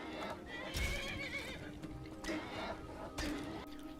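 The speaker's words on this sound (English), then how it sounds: "Even worse than that, the horse then attacked me in Iverstead" Horse in the Skyrim video game neighing and whinnying loudly, several bursts alongside clip-clopping hooves in a game setting.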